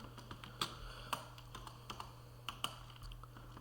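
Soft, quiet clicks of a computer keyboard being typed on, with scattered irregular keystrokes and a few sharper taps, alone and with no talking.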